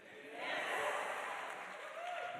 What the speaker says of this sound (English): Some people are clapping.